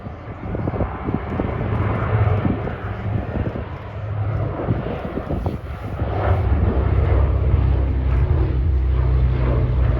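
A PBY Catalina flying boat passes at an air show, its piston engines giving a loud, steady propeller drone that swells toward the end, heard alone without talk.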